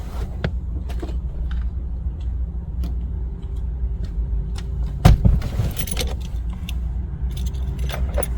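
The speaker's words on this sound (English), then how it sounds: "take the new unprogrammed key out of the vehicle" A new unprogrammed key fob and car keys jangle close by inside a 2013-2015 Honda Crosstour, a steady metallic clinking over a low, constant cabin rumble, with one louder rattle partway through.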